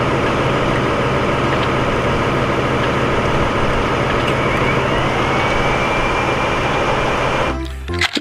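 A toy dump truck, a sand-hauling truck, gives off a steady, loud mechanical whirring drone that runs unbroken for about seven and a half seconds, then stops abruptly.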